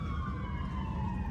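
An emergency vehicle siren wails steadily with a slowly falling pitch, heard faintly and continuously without a break.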